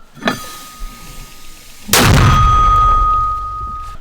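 A sharp, loud blast of a mortar firing in a Ukrainian mortar battery booms out, preceded by a smaller thump, then a long rumbling echo fades with a faint ringing tone.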